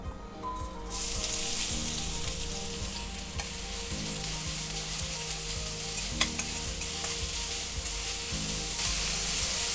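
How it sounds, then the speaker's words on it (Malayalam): Finely chopped onions frying in a little oil for pork vindaloo, with a loud, continuous sizzle that starts abruptly as the onions hit the pan. Faint stirring scrapes run underneath. "ഇനി ഇതിലേക്ക് 2 സവാള വളരെ ചെറുതായിട്ട് അരിഞ്ഞതാണ്, അത് ഇതിലേക്ക് ഇട്ട് കൊടുക്കുക"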